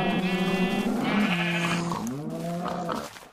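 A Minecraft sheep bleats loudly and close up in a few long, wavering calls, alone with no talking.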